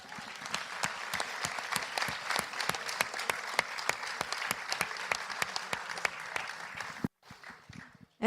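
An audience at a master's thesis defence session claps in steady, dense applause for about seven seconds, then stops abruptly, leaving a faint room murmur.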